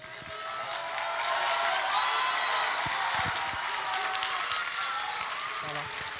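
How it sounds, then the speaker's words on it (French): An audience applauds student musicians called back onstage at a school concert, a dense sustained wash of clapping that swells and holds for several seconds, with a few voices mixed in. "je vais leur demander à tous les élèves musiciens de revenir sur scène pour qu'on les applaudisse très chaleureusement"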